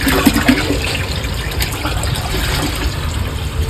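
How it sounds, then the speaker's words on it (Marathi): Borewell water pours steadily into a tank after rain, a constant loud rushing gush that fills the whole clip without pause, with no talking. "आपल्या बोरला पण चांगलं पाणी आलेलं आहे"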